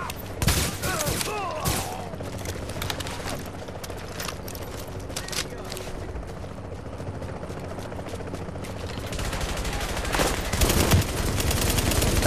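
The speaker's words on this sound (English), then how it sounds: "You're shooting at my teammates." Bursts of automatic gunfire and sharp shots crackle through a game firefight in The Division, dense at the start and toward the end with scattered shots between.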